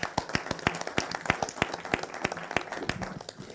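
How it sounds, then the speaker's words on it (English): A conference audience claps for a professor, a fairly faint, loose patter of individual hand claps with distinct sharp strikes spread over a few seconds. "Can we give a professor a handy clap?"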